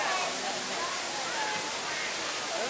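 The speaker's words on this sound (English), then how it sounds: "You guys want to go behind the waterfall?" A waterfall at a Disney World area pours with loud, broadband rushing white-noise roar, a constant wash of water with faint voices mixed in.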